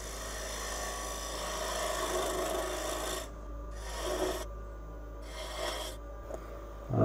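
A woodturning lathe tool scrapes into the wall of a wooden winged box, cutting the shoulder straight in. A steady close rasping hiss breaks into short cutting passes with brief pauses, and no one speaks.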